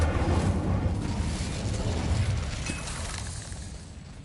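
A fire spell cast in Hogwarts Legacy bursts into a loud, rumbling whoosh of flame that roars continuously and slowly fades over several seconds, with no talk.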